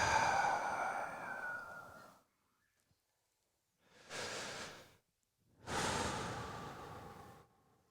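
Slow, deep breaths during a guided breathwork session: a long exhale, then a pause of silence, followed by two more drawn-out breaths, close and soft, with no talk.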